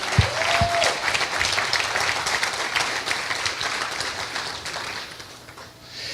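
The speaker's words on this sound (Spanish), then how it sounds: "Dale un aplauso al Señor." Congregation applause in a church during a sermon, a broad wash of clapping that swells, holds steady and fades toward the end, with a brief tone and thumps at the start.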